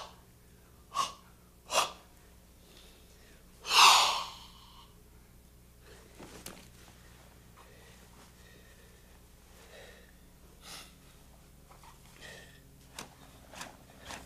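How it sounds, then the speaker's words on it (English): Deliberate breathing during a Goju Ryu karate stretching exercise: a few sharp breaths, one loud forceful exhale near the start, then softer scattered breaths in a quiet room with no talking. "stretching with coordinated breathing, like an animal awakening from a deep sleep"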